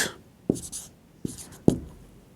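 Marker or chalk strokes on a board as a set is written out by hand, with three distinct taps or strikes spaced unevenly over a couple of seconds, each followed by short scratchy writing sounds, no talking.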